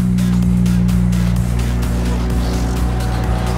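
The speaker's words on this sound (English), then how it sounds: "No one's ever really done McLaren donuts before." A McLaren 570 doing donuts, its engine holding a loud steady droning roar with a constant low hum throughout, near and without voices.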